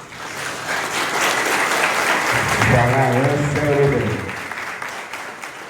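An audience claps loudly and continuously, with a voice speaking or chanting over the middle of the applause before the clapping fades slightly toward the end.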